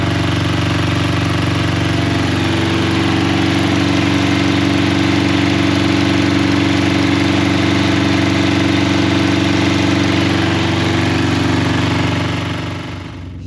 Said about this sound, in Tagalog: Malakas na talaga yung tunog ng generator pero yung kalansing wala na.